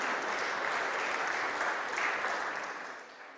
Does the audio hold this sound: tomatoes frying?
no